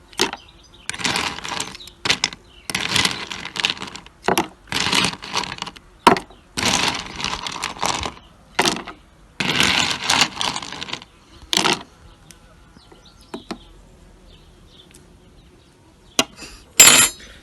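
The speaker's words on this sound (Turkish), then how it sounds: "şimdi buz ekleyeceğim" Ice cubes clattering into a watermelon soda frozen diet drink, a run of sharp clinking bursts and rattles in quick irregular succession, then sparse isolated clinks after a pause.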